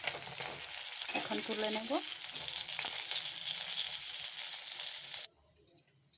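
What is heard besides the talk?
fish frying in oil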